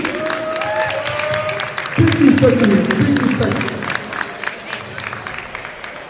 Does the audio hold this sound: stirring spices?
no